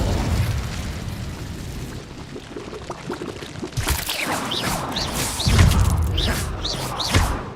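Incendio fire spell explosions in Hogwarts Legacy on PS5: a low rumbling roar, then a string of sharp crackling bursts and booms over dense game sound, loud and close.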